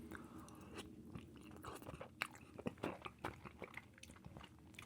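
Close crunching and biting as cheesy Fiesta potatoes topped with lettuce are chewed, with irregular crisp crackles and soft mouth sounds, fairly quiet and without talk.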